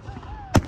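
One sharp firework bang over Lake Oconomowoc, Wisconsin, loud and abrupt against an outdoor background with a faint whistle rising before it.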